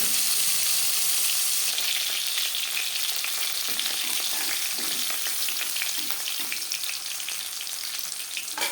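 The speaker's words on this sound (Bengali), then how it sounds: "মাছ আমি হালকা করে ভেজে নিলাম" Silver carp pieces frying in hot oil in a pan produce a loud, continuous close sizzle with crackling spatters and light stirring, heard alone.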